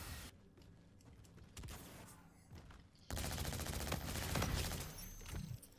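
Rapid automatic gunfire from a weapon in the shooter game Infinite Warfare, loud close bursts with a dense stuttering rhythm, intensifying into a sustained stream in the second half.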